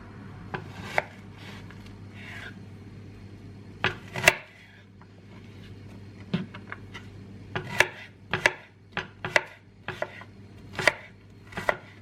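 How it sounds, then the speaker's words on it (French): A knife chops an onion on a cutting board in uneven bursts of sharp taps, with quiet pauses between the runs of cuts, close and clear. "je vais couper un petit morceau d'oignon"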